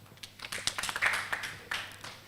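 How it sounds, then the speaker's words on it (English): An audience applauds at a financial reporting awards launch, a moderate run of overlapping hand claps with uneven peaks, fairly faint and heard from a distance in a hall, without talk. "Another round of applause, ladies and gentlemen."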